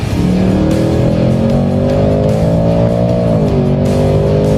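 A used Ford Mustang GT accelerates hard in second gear, its V8 engine roaring loudly and climbing steadily in pitch for several seconds from inside the car, with no talking.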